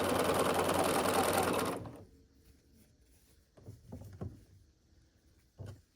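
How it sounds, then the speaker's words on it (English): Sewing machine stitching quilt block pieces along one side, a loud rapid whir for about two seconds that stops abruptly, followed by a few soft handling knocks. "We're going to match up the corners and sew along the side."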